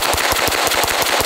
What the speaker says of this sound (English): Let's see how fast we can do a mag dump on the rubber dummy.